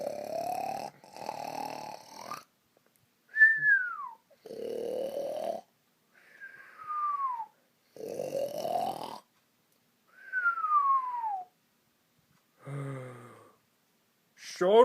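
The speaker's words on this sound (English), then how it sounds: "That snoring sounds like a real grizzly bear growling and snoring at the same time." An animated character snores in loud, rhythmic cycles of rough inhaled rumbles alternating with rising whistly exhales, clearly exaggerated and bear-like, repeating about every two seconds with quiet gaps between.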